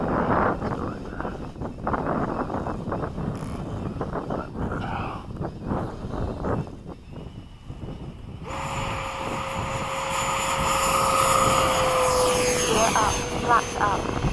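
Engines of an F-15 fighter jet, the Hot Rod Solo, during takeoff at LFE. A steady roar builds louder and brighter in the second half, with wind buffeting and voices throughout.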